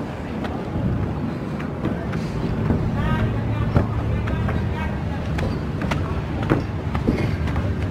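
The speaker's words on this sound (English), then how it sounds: "but first we're going to take a boat ride." A continuous low boat engine rumble on a river cruise in Kuching, with wind and water noise, steady throughout, with people talking over it.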